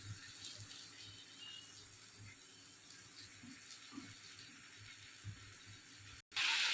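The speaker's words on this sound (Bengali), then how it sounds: "একটু হালকা করে জল দিয়েছি" Water is added to a pan of cabbage frying in oil with ginger paste and spices, a soft, steady running and hissing wash that holds for several seconds before a brief dropout and a louder burst at the end.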